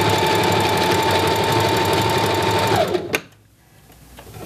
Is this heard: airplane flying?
no